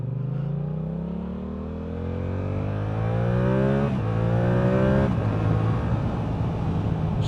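Yamaha R7 sports motorcycle fitted with a Scorpion exhaust revving hard, a loud close engine note climbing in pitch through repeated rising sweeps with brief dips between gear changes, no talk over it.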